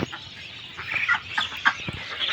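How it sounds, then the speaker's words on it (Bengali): Ducks on a farm with more than a thousand birds kept in a shed, heard from outside as a continuous chorus of quacking and clucking at moderate distance. "ভিতরে প্রায় 1000-এরও বেশি হাঁস রয়েছে"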